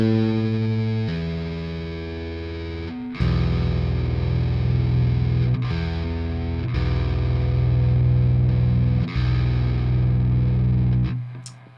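Bass guitar played through the Audio Assault Dominator amp simulator with a boost effect, a thick, sustained distorted tone with several held notes and chord changes, loud and steady, with no voices.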